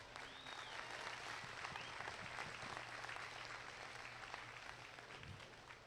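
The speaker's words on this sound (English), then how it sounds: "Give your Division I exhibitors a round of applause" Steady applause from a crowd at a 2023 market hog show, honoring Division I exhibitors; the clapping is dense and moderately distant, holding at an even level for the whole stretch with a faint low hum underneath.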